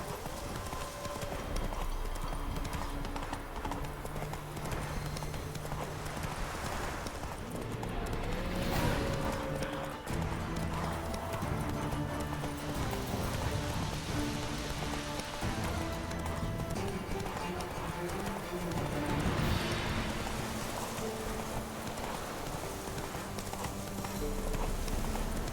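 Hoofbeats of Roach, the horse in The Witcher 3, clip-clop steadily at a gallop alongside game music and ambience, loud and continuous throughout with occasional voice sounds.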